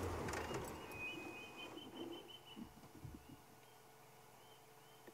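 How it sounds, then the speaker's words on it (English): A bird alarm call rings out in the bush of the Sabi Sand reserve at sunset: a few faint, distant, thin calls over a low, steady outdoor background, with no voices. "Just heard that bird alarm call there."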